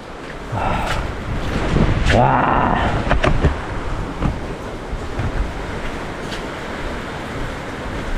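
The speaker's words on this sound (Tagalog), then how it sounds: "Malakas pa rin ang ulan." Heavy typhoon rain pours down in Calaca, a steady broadband wash that swells and stays loud throughout, with no speech over it.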